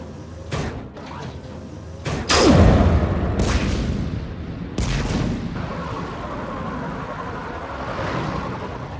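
Heavy guns firing in Mass Effect 3 during a shuttle evacuation: several loud booming blasts and slam-like impacts spread across the scene over a rumbling battle background, with no talk.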